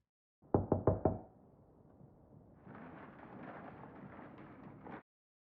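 Four sharp, evenly spaced knocks on a back door in a TV drama scene, loud and close, followed by a low muffled rumble of room noise or movement that continues for several seconds.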